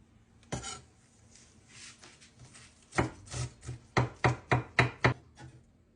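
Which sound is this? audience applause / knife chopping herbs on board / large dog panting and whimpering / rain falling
knife chopping herbs on board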